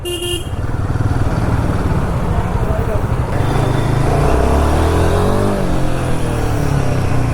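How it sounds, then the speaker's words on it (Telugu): Royal Enfield Himalayan 450 motorcycle accelerating on a highway, its engine note rising and climbing in pitch as it pulls away, loud and close, with a short horn toot at the very start. "Okay, nice pickup bro. Sound కూడా, ఇంజిన్ సౌండ్ కూడా బాగుంది, ఊ అంటుంది."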